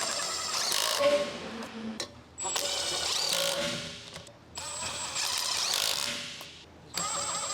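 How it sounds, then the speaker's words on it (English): Electric impact wrench with a 19mm long socket snugging the rear wheel lug nuts on a 2011 Mazda 3 (BK), heard as four separate buzzing, rattling bursts, each about a second or two long, with brief gaps between them. Up close, with no talking. "Using the 19mm long socket with the electric impact wrench,"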